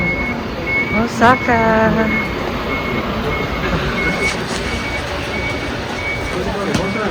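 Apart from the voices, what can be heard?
bus terminal in Nagoya, Japan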